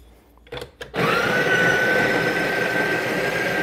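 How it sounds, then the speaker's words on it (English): A Breville Barista Pro's built-in grinder grinds coffee beans with a steady, close, loud whirring buzz that starts after a few short bursts and continues alone. "So we're gonna do some grind some coffee beans"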